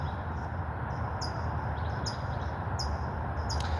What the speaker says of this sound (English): I don't know if you can hear the birds chirping. Birds are starting to chirp.